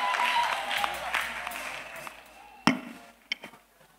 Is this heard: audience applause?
yes